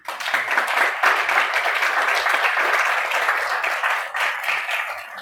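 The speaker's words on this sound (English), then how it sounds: "you ought to give yourselves a round of applause" An audience at an NAACP Virginia State Conference press conference breaks into dense, sustained applause that stays steady and close for about five seconds, dipping briefly near the end before carrying on.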